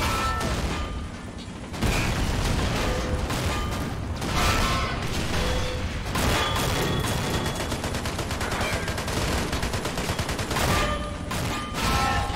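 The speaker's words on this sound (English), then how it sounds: "Wow, big explosions." Rapid bursts of gunfire and booming explosions from a 1941 invasion battle in Men of War: Assault Squad 2, dense and continuous, with heavy blasts punctuating rattling machine-gun fire.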